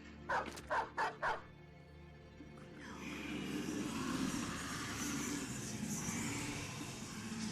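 Dogs bark in a battle in the video game Battle Brothers: four quick, sharp barks up front, then a dense, roaring wash of combat noise that fills the rest.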